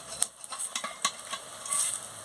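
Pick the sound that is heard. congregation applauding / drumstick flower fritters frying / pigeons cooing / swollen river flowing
drumstick flower fritters frying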